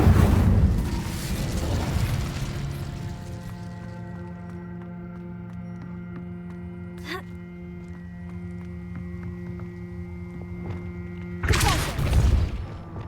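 In Hogwarts Legacy, an Incendio fire spell roars up in a loud burst, then fades under a sustained musical drone, with a brief sharp crack midway and another fiery whoosh near the end.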